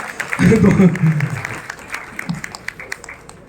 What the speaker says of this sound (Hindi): दीप शैलजा के लिए भी एक बार जोरदार तालियां